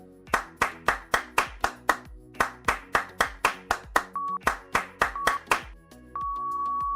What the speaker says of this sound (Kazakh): Қол шапалақтау.